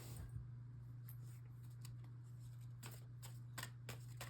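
Tarot cards are handled and shuffled quietly, with soft riffling clicks and taps over a steady low background hum.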